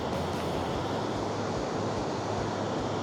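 Dettifoss waterfall in Iceland gives a steady, powerful roar of rushing water, broadband and unbroken, with some wind buffeting the microphone.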